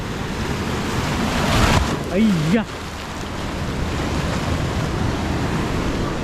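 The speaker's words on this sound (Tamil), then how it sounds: "சூப்பராக அலை அடிக்கு பாருங்கள். இந்திய பெருங்கடல்." Indian Ocean surf roars steadily at Kanyakumari with gusts of wind across the microphone, while a voice briefly speaks partway through.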